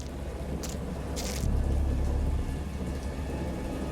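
Steady rain pours through a storm in the horror game Dagon, with a deep roll of thunder swelling in the middle before fading back into the constant downpour.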